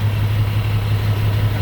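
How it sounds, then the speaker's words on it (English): A Class A tractor-trailer truck engine idles and pulls in first gear as the clutch eases out, a loud steady low hum with a constant drone close by. "I'm putting the vehicle in first gear, easing off the clutch"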